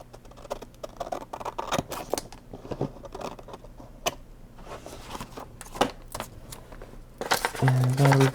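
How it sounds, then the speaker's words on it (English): Paper being trimmed off a composition notebook cover with scissors: a quiet run of irregular snips and crisp rustles close by, ending in a louder burst of handling noise. "So I think I'm just going to trim it off with the scissors."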